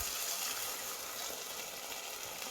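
Water poured into a cooking pot while making a vegetarian black-eyed pea stew, a faint steady splashing stream heard on its own.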